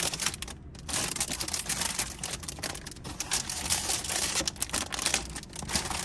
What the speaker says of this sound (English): Now, let's get everything out of the plastic bags.